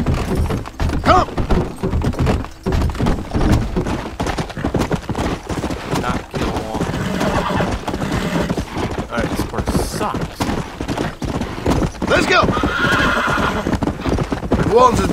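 Loud, quick hoofbeats clatter continuously as a horse gallops close by in Red Dead Redemption, with neighing and talk mixed over the rhythm.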